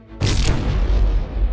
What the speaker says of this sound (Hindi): अरे बम ब्लास्ट हो गया